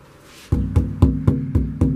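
Steady taps on a taut stretched canvas, about one every quarter second, each with a short hollow drum-like boom.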